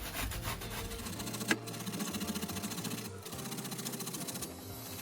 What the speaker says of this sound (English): We need to grate them.